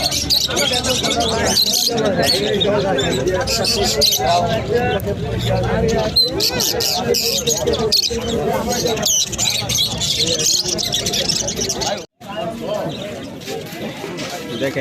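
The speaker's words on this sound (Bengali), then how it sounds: "অনেক কবুতর এবং পাখি আসছে" Busy bird market hubbub with many voices talking and calling, pigeons and other birds cooing and chirping mixed into the crowd noise throughout.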